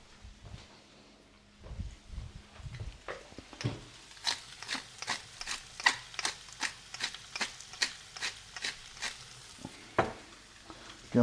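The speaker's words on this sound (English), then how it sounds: "Just start moving our leeks around as well. You can do this simultaneously. You'll fry them off." Leeks fry in a pan under a soft sizzle while a utensil stirs them, scraping and tapping in a steady series of about a dozen sharp strokes, close and fairly quiet.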